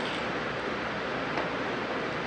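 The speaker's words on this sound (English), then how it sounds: "you can hear the rain in the background" Steady, dense hiss of rain fills the whole clip, an even wash of noise with no talking.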